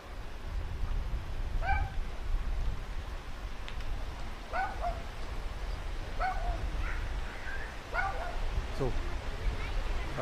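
A dog in a village barks in short repeated bursts, around five woofs spread across the stretch, heard at a moderate distance over steady outdoor background noise and murmuring voices.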